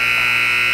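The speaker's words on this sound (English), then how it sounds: "Buzzer." A loud, steady electronic horn-like buzzer sounds continuously at an ice hockey game, close and sustained without a break.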